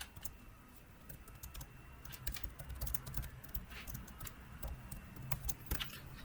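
Keys clack irregularly on a computer keyboard while HTML code is typed, quiet clicks in scattered bursts over a low room hum, with no voice.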